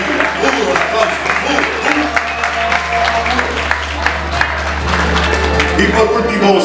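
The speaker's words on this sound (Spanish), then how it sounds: "Duro el aplauso." Hard applause from guests at a birthday party, dense continuous clapping from a crowd under music and an announcer's voice, steady for several seconds.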